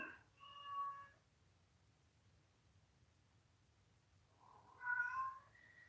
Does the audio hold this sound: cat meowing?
yes